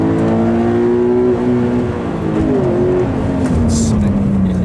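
A car on a race track brakes and slows, its engine note falling in pitch as the revs drop under loud cabin road noise, with someone speaking over it.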